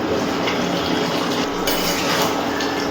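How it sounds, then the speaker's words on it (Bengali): A metal lid comes off a cooking pot of duck curry, clinking and scraping against the rim, set over a steady broadband hiss of simmering and kitchen clatter; no one talks. "ঢাকনাটা তুলে নিচ্ছি।"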